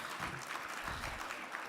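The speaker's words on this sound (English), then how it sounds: "Give Mayor Sheevy a big round of applause." A lunch audience at a mayors' winter meeting gives Mayor Sheevy a round of applause, heard as a faint, distant, even wash of clapping with no clear individual claps.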